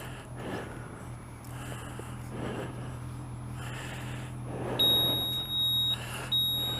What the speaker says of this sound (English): I've got to wait for this bloody alarm to set itself